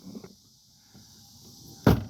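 Quiet rustling and faint knocks, then a single sharp thud of a 1997 Buick LeSabre's car door shutting near the end.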